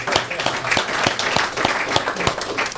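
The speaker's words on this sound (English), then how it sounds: "You got to give them a little, give them a little applause, right?" An audience gives scattered applause, a steady patter of many hands clapping at moderate volume from a little distance, with no voices standing out.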